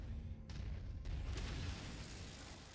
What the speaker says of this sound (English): I see shots, I saw explosions.